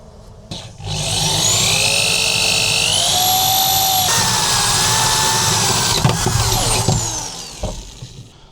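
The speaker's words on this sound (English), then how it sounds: "I decided to drill a hole from the inside to the outside." A power drill boring a hole from the inside through a Tacoma camper top while fitting a diesel heater, with a steady loud motor whine that shifts pitch partway through, then spins down.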